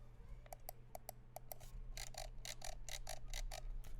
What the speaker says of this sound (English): Scroll wheel.